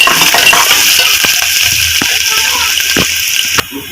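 Onion, garlic, mustard seeds and curry leaves sizzle in hot oil while being stirred, a loud steady frying hiss with a few spoon scrapes and clinks against the pan.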